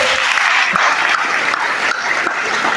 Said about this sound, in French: Je demande à tout le monde encore de bien vouloir applaudir la récipiendaire.